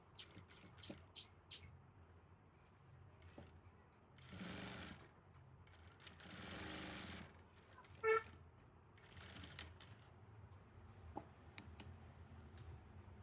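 A sewing machine stitches piping onto fabric in quiet bursts of rapid mechanical whirring separated by pauses, with a few small clicks and handling sounds between runs.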